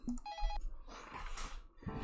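A telephone rings in the visual novel game SeaBed, a short electronic ring tone with sustained tonal bursts, followed by softer muffled rustling and another tonal burst, fairly close and clear.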